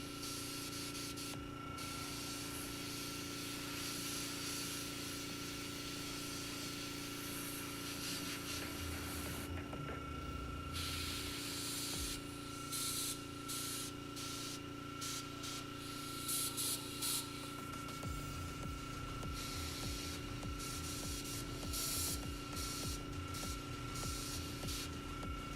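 An old airbrush of about twenty years sprays base paint onto a YF-21 model kit, giving a continuous steady hiss with a faint hum underneath and a few brief breaks in the flow.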